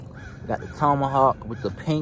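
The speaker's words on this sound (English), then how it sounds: "Sorry about the birds, man. Like I said, it's early in the morning." Birds caw outdoors in the early morning, harsh repeated calls close by and fairly loud, overlapping with someone talking.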